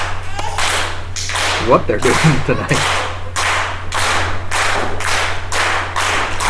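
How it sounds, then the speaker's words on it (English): Steady rhythmic clapping from a wrestling crowd at a GLWA show, loud, regular beats repeating about twice a second with an announcer talking over the start. "All four men and all of GLWA is clapping away"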